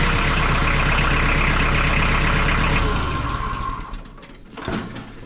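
A freshly cranked vehicle engine with a clutch idles steadily and close for about three seconds, then drops away to quieter mechanical knocks and clunks.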